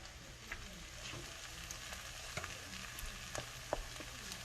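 Eggs frying in a pan for an Asian rice dish, a steady soft sizzle with scattered small pops and crackles, close and fairly quiet, with no talking.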